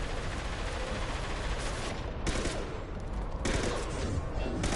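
Dense rifle fire in the video game Mass Effect 2, a continuous loud burst of rapid shots filling the whole stretch with brief surges, no voices over it.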